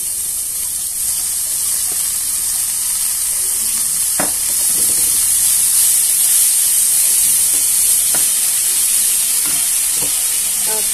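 Sangri pods fry in a spiced pan with turmeric, giving a loud, continuous high sizzle with a few scraping stirs and clinks of a spoon, close up with no talking.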